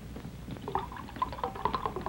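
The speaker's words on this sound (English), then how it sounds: "Look at that pour." Genesee beer pours into a glass outdoors in the mountains, a soft, steady gurgle with bubbly fizz and small splashes lasting about two seconds, fairly quiet and alone.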